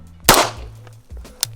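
Handgun shot fired during a timed target-shooting drill, one sharp loud crack followed by a fainter second report, close by with no talk.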